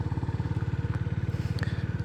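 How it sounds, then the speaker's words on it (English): A GB350 single-cylinder, long-stroke, air-cooled motorcycle exhaust idles with a steady, rapid low thumping pulse, loud and close, continuing evenly throughout. "sound of the exhaust on the GB350 single-cylinder thumper with the long-stroke air-cooled engine"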